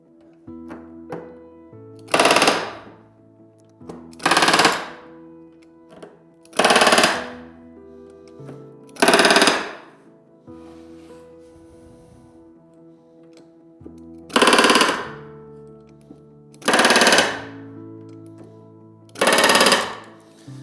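A pneumatic rivet gun hammers rivets into an RV10 aircraft aileron in eight loud rapid-fire bursts, each lasting under a second and spaced a couple of seconds apart, with quiet workshop hum between them.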